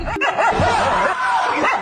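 Dogs barking and fighting, a close loud burst of rough barks, yelps and whimpering growls running continuously through the short moment.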